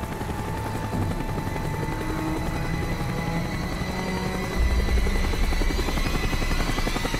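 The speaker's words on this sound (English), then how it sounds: "The chopper is coming around again." Helicopter circling in the Call of Duty Black Ops video game, a loud continuous rotor drone with steady chopping pulses that grows heavier and closer near the end, with faint gunfire-like noise mixed in.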